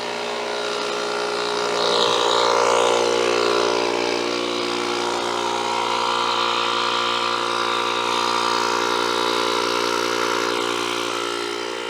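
A JF EGWO PRO 3000 car jump starter with a built-in air compressor runs steadily while inflating a vehicle's front tire to 35 psi, giving a continuous, even motor drone with no talking.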